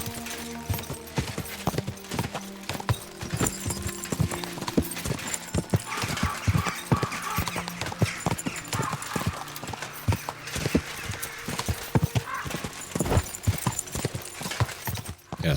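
A horse's hoofbeats in Kingdom Come: Deliverance 2 pound steadily in a galloping rhythm across an open field, close and loud, continuing without pause for the whole stretch with no talking.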